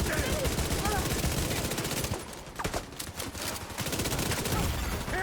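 Fire-bullet gunfire in a video game, dense bursts of rapid shots nearly continuous, briefly thinning in the middle before the loud volley resumes; a voice speaks faintly beneath.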